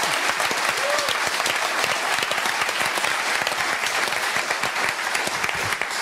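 Sustained, dense applause from a television studio audience for Pinkpop founder Jan Smeets at a 50-years-of-Pinkpop celebration, constant and loud for the whole stretch.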